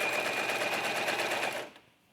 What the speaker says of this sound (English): So that's starting at the neckline, sewing to the arm